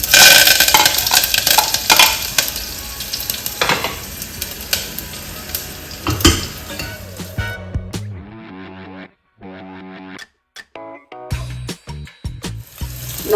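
Dry chillies, garlic and curry leaves fry in hot oil in a pan, sizzling loudly and continuously, with stirring scrapes and soft music emerging as the sizzle eases.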